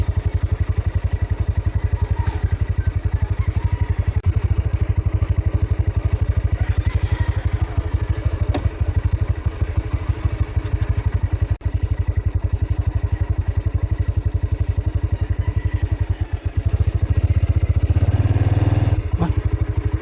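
A motorcycle engine idles steadily and loudly close by as the bike is moved at a campsite on Mt. Parawagan, with occasional clatter and a brief rise near the end, no talk.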